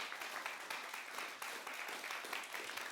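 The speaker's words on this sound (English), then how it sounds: "So I would like to give a warm applause to David." An audience gives warm, steady applause that holds evenly for a few seconds, many hands clapping at once at a moderate distance with no voices over it.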